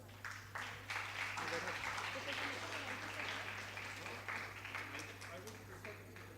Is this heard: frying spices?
no